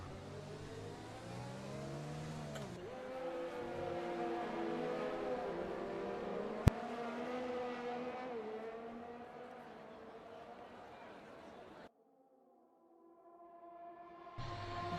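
Racing cars lapping the French Grand Prix circuit in a sim racing video game, engines droning and rising in pitch through gear changes, loud and steady for most of the stretch before cutting briefly to a quieter pass near the end.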